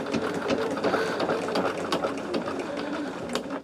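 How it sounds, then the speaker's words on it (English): Sewing machine stitching a seam on a fabric project, a steady rapid mechanical whir with fine ticking running continuously at close range, no voices. "now what we're doing is sewing the next seam"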